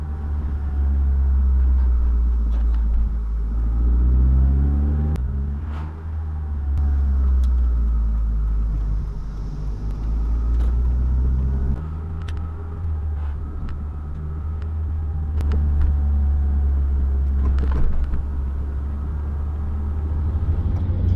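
Steady, loud low road rumble and engine drone come from inside a car cruising on the highway on adjustable coilovers with camber plates, with slight shifts in tone and no one talking.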